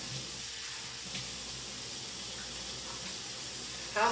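Water runs steadily from a kitchen tap as hands are washed beneath it, a soft, even splashing hiss with faint clinks and a brief louder swell at the end.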